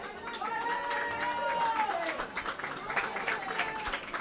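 Crowd at an Under 17 Trento versus Bolzano youth football match applauding a substituted youth player, a short stretch of scattered clapping under a commentator's voice.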